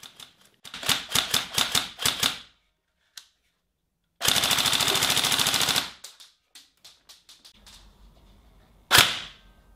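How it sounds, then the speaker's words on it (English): A Tokyo Marui HK416 Delta recoil shock airsoft rifle fires close and loud, first a string of sharp single shots, then a rapid full-auto burst of about two seconds, followed by a few scattered clicks and one last shot. "The recoil engine does give you a thump, but I wouldn't call it recoil."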